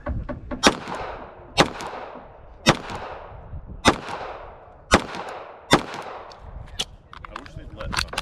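Gunshots at a USPSA practical shooting match outdoors: six or seven loud, sharp cracks at roughly one-second intervals, each with a short echo, followed by fainter distant shots.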